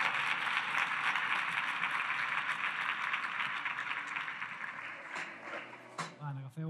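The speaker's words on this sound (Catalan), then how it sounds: "un fort aplaudiment" Applause from a conference audience, a dense continuous patter of clapping that holds steady and then thins toward the end, where a couple of brief sounds come through.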